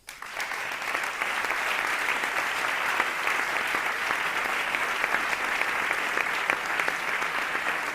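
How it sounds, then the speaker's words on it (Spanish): Sustained applause from a crowd at a political speech, rising quickly and holding as a dense, even roar of clapping with no talk over it. "Y esto merece un aplauso."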